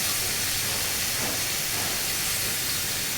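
Slices of taro hiss steadily as they boil and fry in a pot, a continuous close steam-like sizzle with no talking.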